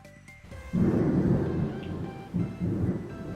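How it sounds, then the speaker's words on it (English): Thunder rumbles in a deep, rolling swell that builds after a brief quiet start and surges again near the end, loud and sustained with a hint of rain beneath, no voices. "Thunder makes me so excited unless it's like really like terrifying."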